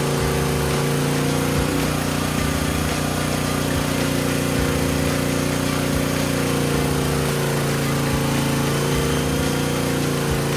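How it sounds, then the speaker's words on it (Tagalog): A Philking inverter generator drives its built-in DC welding machine at full 200 amperes, giving a loud, constant engine drone with a steady hum and a faint, regular pulsing throughout, close by and without speech. "Dito naman i-full blast natin at 200 amperes yung built-in DC welding machine."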